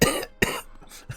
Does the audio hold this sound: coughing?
yes